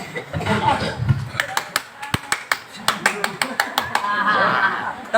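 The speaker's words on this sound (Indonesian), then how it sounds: "Nah, pakai tepuk tangan." Hand claps ring out in an Islamic study gathering: a run of about a dozen sharp, separate claps in uneven rhythm, with speech and laughter before and after.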